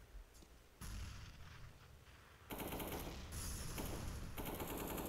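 Rapid gunfire in a Counter-Strike match, with rifle taps fired through smoke: dense, loud bursts of shots that grow heavier after the first couple of seconds and run almost continuously to the end.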